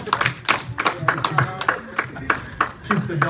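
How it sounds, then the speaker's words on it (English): A church congregation claps through a round of applause at a Saturday service, with loud, uneven hand claps rising in bursts and a voice speaking over the crowd. "Let's give these guys a big round of applause."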